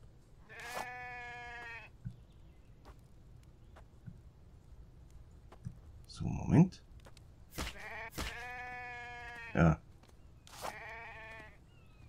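Sheep in the video game Infected bleat in three long, wavering calls, clear and close with quiet gaps between them, while someone speaks a few short words in the middle.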